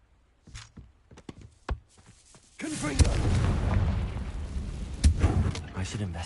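The Confringo fire spell goes off in Hogwarts Legacy. A few sharp clicks and thuds come first, then a loud sustained roaring blast that rumbles on for several seconds with a second burst near the end.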